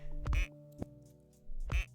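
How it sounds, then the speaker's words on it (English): In a duck chess video game, a cartoon duck quacks twice, about a second and a half apart, with a fainter click between; the quacks are clear and fairly quiet over a soft steady hum, with no talking. "The duck, he also quacks, just in case you were curious."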